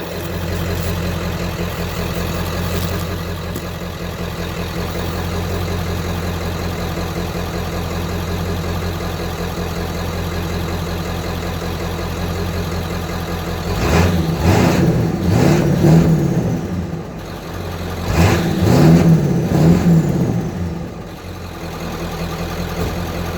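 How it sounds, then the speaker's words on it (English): A 1995 Ford F250 extended cab with the 7.3 Powerstroke diesel idles with a steady low clatter from the exhaust, then is revved twice, each time swelling into a loud, gruff roar before settling back to idle. "But you hear the exhaust."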